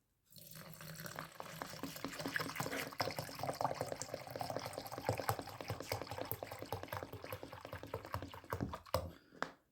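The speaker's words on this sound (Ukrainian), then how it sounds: "Тепер я беру грунтовочку і наливаю" Primer pours steadily into a container for several seconds, a soft continuous gurgling splash recorded quietly up close.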